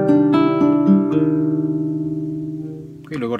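Acoustic guitar picks two short melodic fragments from a song across the fourth to first strings, plucked notes ringing and sustaining close and clear, with a brief strum near the end.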